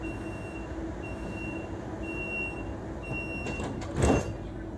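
Train doors at a station on a Malaysia-to-Thailand rail trip, a steady warning beep repeating over low idling rumble, then a short pneumatic whoosh and clunk as the doors slide open near the end.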